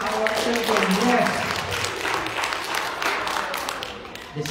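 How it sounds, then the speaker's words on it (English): Church congregation applauding children at an Easter Sunday service, a dense wash of clapping sustained throughout at moderate volume, with crowd murmur mixed in. "One more round of applause for our children."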